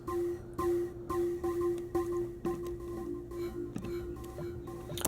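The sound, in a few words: synth bell patch processed with Multipass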